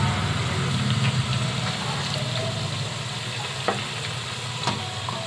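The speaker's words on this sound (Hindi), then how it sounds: "अपनी पकौड़ी को पलट लेंगे हम, क्योंकि हमारी आँख तेज हो गई थी तो हमारे ऑयल गर्म हो गए थे।" Raw potato pakoras deep-frying in hot oil, a dense and steady sizzle that fills the whole clip at close range, with a few faint clinks of a spoon and no talk.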